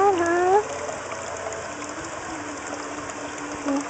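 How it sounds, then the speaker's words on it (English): A steady gush of water from an outdoor waterfall runs continuously in the background, with chirping parakeets near the start and a person speaking softly over it. "Can you hear the water"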